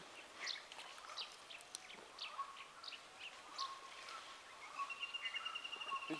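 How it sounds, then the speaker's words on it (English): A ruddy shelduck calls at a moderate distance in a central Indian forest, scattered honking and chirping notes over quiet outdoor ambience, with a run of repeated calls near the end. "It's more sound, it's a ruddy shell duck."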